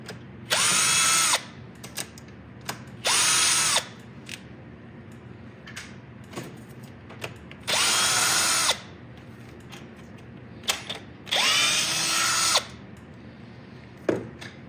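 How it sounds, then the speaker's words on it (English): A power drill or impact driver runs in four short bursts while removing the thermostat housing bolts on a BMW V10 engine, with quieter clicks and handling noises between the close, loud bursts. "now we're gonna remove the 3 bolts here for the thermostat housing, and then also this 10 millimeter bolt here for the wiring harness"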